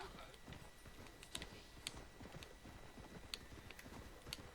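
Horse hooves clopping at a steady trot on a road in Red Dead Redemption: Undead Nightmare, soft rhythmic impacts with faint background ambience.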